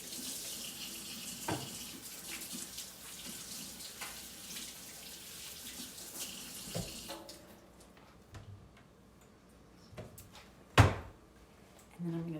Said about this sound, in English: I'm gonna wash my sticky hands.